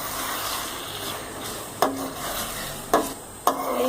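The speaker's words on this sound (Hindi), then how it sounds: "कलेजी डाल के भुनाई करेंगे।" Chicken liver sizzles in a pan with tomatoes while a spoon stirs it, a continuous frying hiss broken by three distinct scraping strokes against the pan, close up with no talking.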